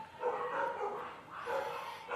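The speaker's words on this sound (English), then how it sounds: "a few dogs barking as they're not too happy with kids wandering by" Several dogs bark outdoors at children passing by on Halloween evening, repeated muffled barks rising in two bursts, heard from indoors at a moderate distance.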